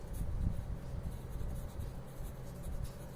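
A pen scratches steadily across paper while maths working is written out, a close, continuous scribbling with no voices.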